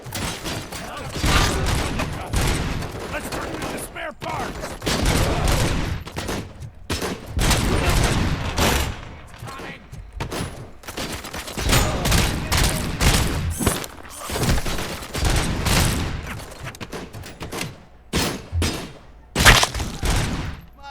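Video-game gunfire in RoboCop: Rogue City, with repeated loud, irregular volleys of rapid shots broken by short gaps, plus scattered thuds and impacts.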